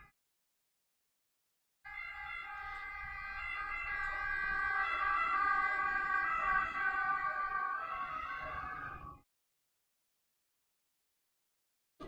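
An ambulance siren wails outside for about seven seconds, swelling as it passes and then cutting off abruptly, heard faintly from indoors.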